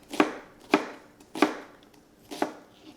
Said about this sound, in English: Now I'm just chopping up some white onion.